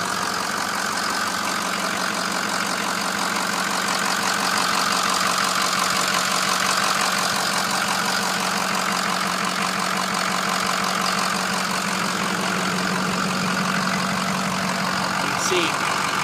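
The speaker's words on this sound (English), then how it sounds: "So I'm starting them up now so you can listen to them while I'm doing this." A 2006 Ford F250 King Ranch diesel engine idles steadily nearby with a continuous knocking clatter and even rhythm, while a person talks over it.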